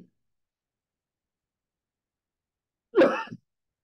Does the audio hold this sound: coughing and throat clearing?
yes